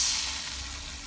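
Tomato sauce sizzles in a hot pan, a loud crackling fry that is sharpest at the start and then eases slightly over a brief moment, without any talking.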